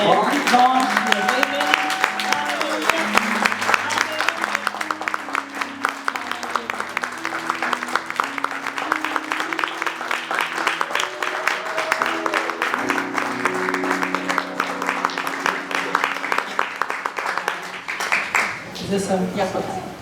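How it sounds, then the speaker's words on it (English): A congregation at a church service stands and applauds a speaker, sustained clapping over about twenty seconds mixed with musical tones and voices, tapering near the end. "give her a rousing hand of applause"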